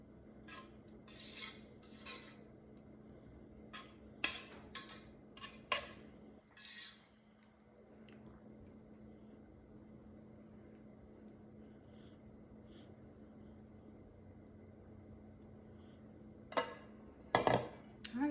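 A utensil scrapes pecan pie cake filling in a kitchen, with a few short bursts of metallic scraping and clinking at the start and again near the end, separated by a long quiet stretch.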